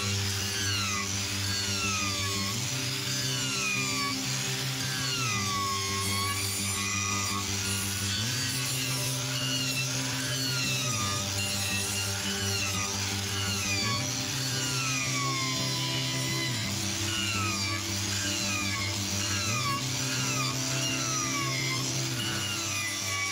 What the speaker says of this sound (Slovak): skôr odskúšam tento rezbársky kotúč, čo to urobí. Mám to na metalovej brúske